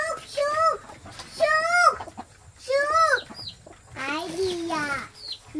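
Domestic hens in a yard, one stuck in a bucket, give four loud, drawn-out squawking clucks close by, with short pauses between them.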